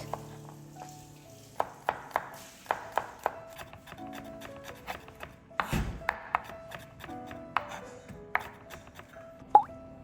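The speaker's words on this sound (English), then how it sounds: "Finally, mince the garlic." A knife minces garlic on a cutting board in sharp, uneven taps, some in quick runs and others isolated, clear and close in a quiet kitchen.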